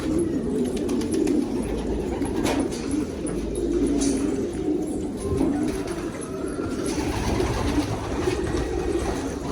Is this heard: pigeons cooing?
yes